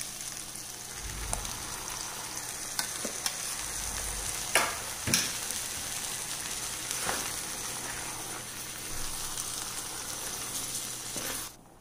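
Ground paste goes into an ash gourd curry, raising a steady, hissing sizzle from the pan with a few soft clinks and stirring knocks over the continuous bubbling.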